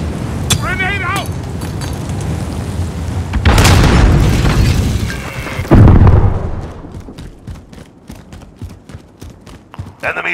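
A grenade goes off during a Call of Duty: Modern Warfare match as a couple of heavy, loud booms amid ongoing battle noise and rapid gunfire. Voices shout callouts throughout.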